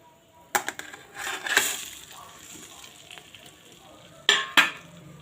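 Cooked rice for narthangai (citron) rice tumbles into a hot pan and gets stirred, giving sharp scraping clatters and a soft sizzle. Louder bursts come near the start and again near the end, with quieter stirring in between.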